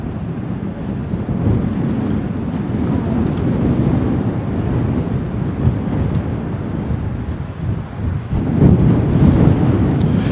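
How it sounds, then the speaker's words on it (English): Strong wind buffets the microphone at RAF Lakenheath in a steady, loud, low roar that lasts throughout and gusts harder near the end, with no speech. "The wind is getting really bad here."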